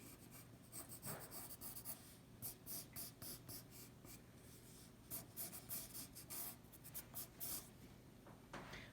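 Pencil scratching across paper while sketching a superhero figure, a run of short, brisk strokes in quick bursts, close and quiet, with no talking.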